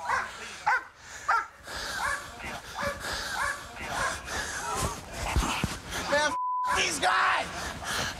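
A police dog yelps and barks during an arrest scene, short sharp calls mixed with whimpers and heavy breathing, close and loud under agitated voices and rustling throughout.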